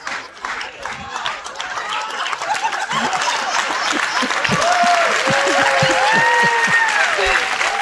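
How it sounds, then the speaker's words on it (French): Audience applauding loudly and steadily at a live French-language comedy show, dense clapping building and sustained throughout, with some crowd chatter and chuckles mixed in. "Vos applaudissements, c'est-tu pour montrer du soutien à Brahim?"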